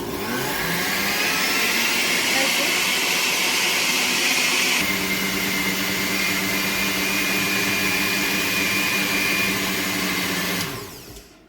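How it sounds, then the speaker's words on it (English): A blender runs steadily, blending tomatoes and spices for a peanut stew, with a loud, even whirring motor that shifts pitch midway and then winds down at the end. "I'll blend them now. Now I'm blending my"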